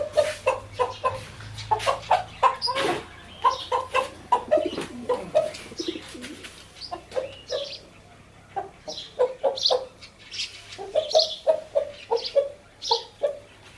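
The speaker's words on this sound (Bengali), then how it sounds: "এই যে মোরগ দেখতে পাচ্ছেন" A rooster clucks close by in quick repeated bursts, pausing briefly between them, with other fowl sounds mixed in across the yard.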